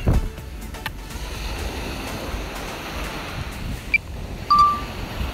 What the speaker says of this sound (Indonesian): Ternyata di sini anginnya kuat, guys. Anginnya sangat kuat, guys.